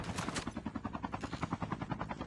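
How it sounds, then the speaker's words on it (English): Helicopter in Call of Duty: Mobile, a fast rhythmic rotor thumping close and steady for a couple of seconds, alone without talk. "Drago apparently in a helicopter"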